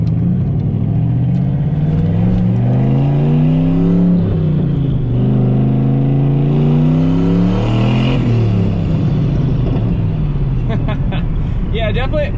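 A 650 hp turbo Pontiac GTO on Kenda Kaiser KR20A semi-slick tires accelerates hard through gears, engine pitch sweeping up and dropping with each shift, loud and close from inside the car.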